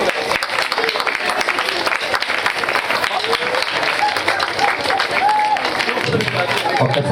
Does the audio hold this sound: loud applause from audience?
yes